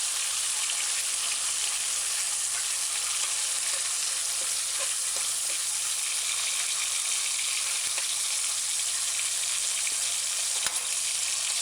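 Ham sizzles loudly in a hot pan on a stove set to medium high, a steady, dense crackling fry that continues unbroken.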